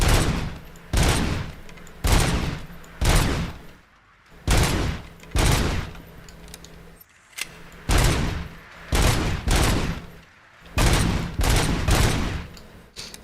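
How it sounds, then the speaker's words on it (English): Bursts of gunfire from a video game weapon ring out in repeated loud volleys, each lasting about half a second with short gaps between them, continuing for over ten seconds with no speech. "They say it's cheater gun, but it's a good gun."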